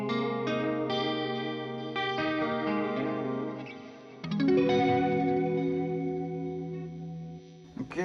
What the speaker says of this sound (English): let's turn on that TC Electronic pedal and see what that sounds like